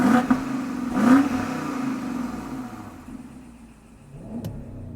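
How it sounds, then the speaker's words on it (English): A 2020 BMW X7 M50i with a V8 and M Sport exhaust fires up and revs in two strong bursts, then settles into a quieter idle before a last short blip, close and loud with no talking. "that's a V8"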